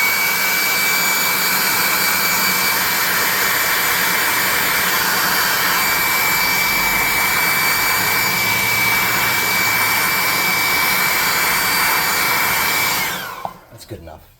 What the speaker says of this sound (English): we need to hit this with a hair dryer so we can move on to the next part